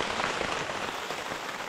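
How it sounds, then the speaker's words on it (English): Rain falls steadily on a tent at Lower Soldier Lake in the Sierra, a close, dense patter on fabric that stays even and fairly loud throughout, with nobody speaking. "it's raining"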